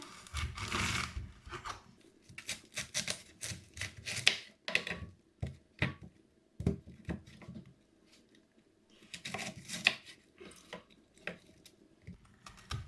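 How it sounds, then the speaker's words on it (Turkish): Red cabbage being cut into cubes with a knife on a board, a rapid run of crisp, close chops in uneven bursts separated by short pauses, with no talking. "İlk önce lahanayı kesiyoruz. Küp küp keseceğim."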